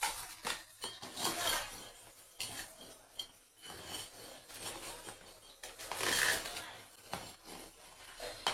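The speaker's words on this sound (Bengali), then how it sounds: "এদিকে আমি মাছ ভাজবো, তার জন্য আমি চুলার উপরে কড়াই দিয়ে দিয়েছি" Metal cookware clinks and clatters as a karai wok is set on the stove for frying fish, a few scattered knocks and scrapes of pots close by.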